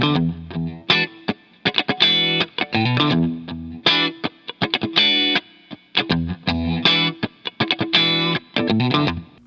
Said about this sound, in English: the first 3 notes were muted rakes and a chord stab on the 4th note